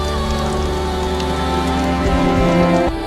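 Gentle rain falls in an animated Korean folktale scene, a steady, even patter that holds throughout before cutting off abruptly near the end.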